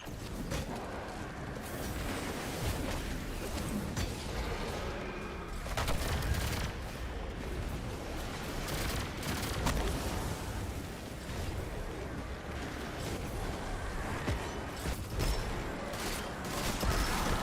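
Rapid, repeated hand cannon gunshots in a dense, continuous barrage of game combat, loud and close, with crackling impacts and rumbling effects layered throughout and no talking.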